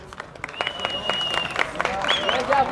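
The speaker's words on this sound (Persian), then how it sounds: "تشویق کنید فایتر رو" Crowd applauding a fighter at a fight event in Lorestan, Iran: scattered claps and cheers with whistles rise under an announcer's voice, growing busier toward the end.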